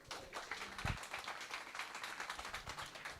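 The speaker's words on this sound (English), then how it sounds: "Let's give another round of applause." Audience round of applause at a digital marketing workshop after a set of pitches, a steady dense patter of many hands clapping at moderate distance, fairly quiet and continuous throughout.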